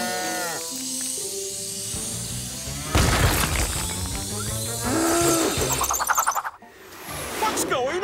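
A herd of cattle mooing amid a busy PAW Patrol cartoon soundtrack of music and effects, with a loud rushing burst partway through.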